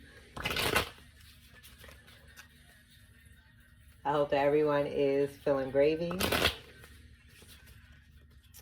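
Two short bursts of tarot cards being riffled, one at the start and one near the end, with a person talking in between.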